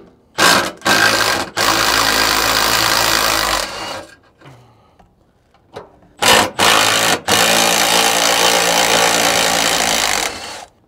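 A power tool runs in loud sustained bursts as two bolts are taken off a vehicle drive shaft during alignment work. Several buzzing, rattling runs are cut by short stops and one quieter gap.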